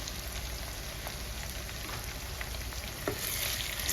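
Ingredients for a country chicken curry fry in hot oil in a pan, giving a soft, steady crackling sizzle with a few faint pops and no voices.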